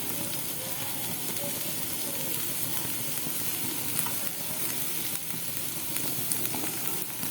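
Sliced green and red capsicum stir-fried in a hot pan for dragon chicken sizzle in a continuous loud hiss, with occasional faint stirring scrapes and no talking.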